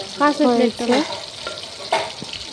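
Marinated chicken pieces fry in hot oil and are flipped over, a close crackling sizzle broken by a few sharp scrapes and brief tonal squeaks near the start.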